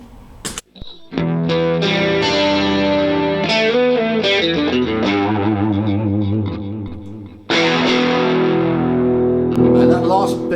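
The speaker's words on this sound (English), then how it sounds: "Now we're putting on the modulation." Vox Valvetronix VTX150 Pro Neodymium guitar amp with a modulation effect applied to a distorted electric guitar, a swirling, wavering line of chords and notes that stops briefly and then comes back with a fresh strummed chord.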